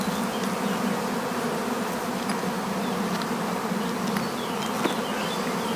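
A honeybee swarm being hived into frames buzzes as a dense, continuous drone, close and steady throughout, with no voices.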